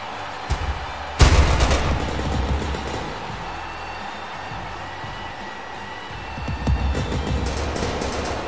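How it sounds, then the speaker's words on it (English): Pyrotechnics at a wrestling entrance burst with a sudden loud boom followed by a rolling crackle and rumble from the arena, then a second wave of popping blasts a few seconds later. "Now as the pyros are going off"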